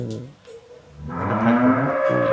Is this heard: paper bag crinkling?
no